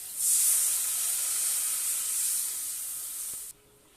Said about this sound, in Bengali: এবারে সব মশলাগুলোকে ভেজে নেব। এবারে দিয়ে দেবো জল।